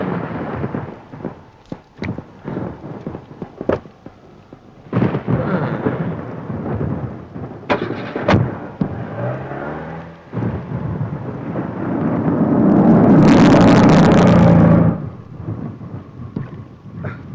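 Heavy rain with thunder, a steady roar of downpour broken by sharp cracks and rolling rumbles, swelling into a loud sustained burst near the end, with no speech.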